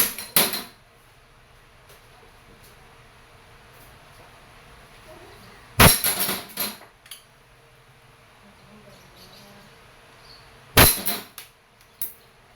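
An Umarex Glock 17 Gen 4 airgun fires in three sharp, snappy cracks spaced several seconds apart, each followed by a quick rattle, with quiet room tone between shots.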